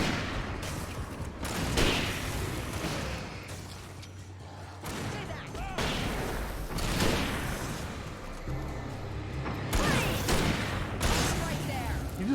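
Loud bursts of gunfire in the video game Alan Wake, several heavy volleys separated by brief lulls, with people talking over the shooting.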